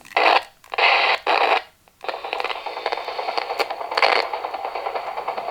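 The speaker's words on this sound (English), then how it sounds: "You can see music or hear music from this transmitter" Music picked up by a radio from a signal generator transmitter tuned to 37.1, arriving as choppy, hissy bursts at first, then settling into a steady, thin, crackly stream of sound.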